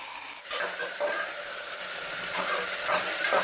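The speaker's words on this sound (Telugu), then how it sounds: "కట్ చేసుకున్న ఆనియన్స్ని ఆయిల్లో వేసుకుంటున్నా" Chopped onions frying in hot oil for a mutton curry give a steady, loud sizzling hiss that swells after a brief start and holds evenly throughout, with no talking.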